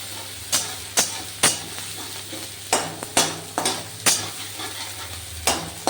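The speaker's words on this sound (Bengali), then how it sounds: "টমেটো আর পেঁয়াজটা ভাজা হোক" Chopped onion and tomato fry in a pan with five-spice, giving a steady close sizzle under a string of sharp spoon-and-pan clinks about once a second as they are stirred.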